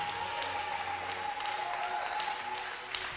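A church congregation in Pointe-Noire applauds for the Holy Spirit, steady sustained clapping from a crowd with a held musical tone underneath.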